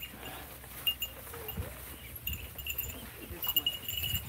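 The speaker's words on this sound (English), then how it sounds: "There's around like two goats in the field." Goats on a working family farm, heard as faint scattered bleats and animal shuffling over a quiet outdoor background with some low handling noise.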